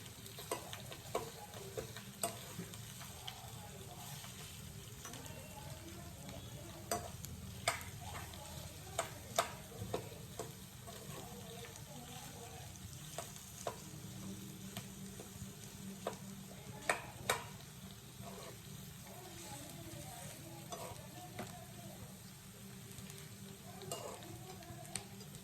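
Boiled potato sabzi is mashed and stirred in a pan, giving quiet, continuous low sizzling with scattered scraping taps and clicks of the utensil against the pan throughout.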